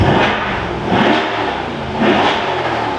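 A Lamborghini Murcielago engine revs close by in several loud rising surges, roaring and falling back between pulses with a rough mid-range growl and no voices.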